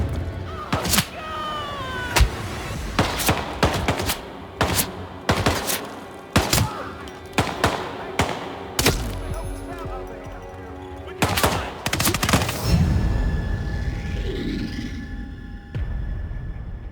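Gunfire in the Hitman 3 video game, a string of sharp, loud shots in uneven bursts with brief pauses, some rapid volleys, followed by a low rumbling thud near the end.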